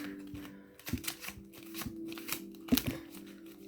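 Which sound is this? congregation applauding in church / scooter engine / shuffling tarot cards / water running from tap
shuffling tarot cards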